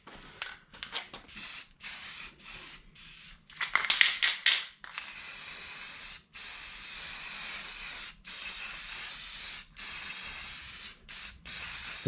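Rust-Oleum paint for plastic and metal sprayed from an aerosol can onto a junkyard bezel, a close hiss in repeated bursts of varying length separated by short pauses, with no voices.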